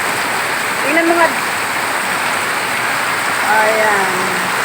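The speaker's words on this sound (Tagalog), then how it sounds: "Alakas ng ulan dito guys sa Carissa 1A." Heavy May rain falls steadily in a rural Philippine garden, a dense, constant hiss close to the listener, while a voice speaks briefly over it.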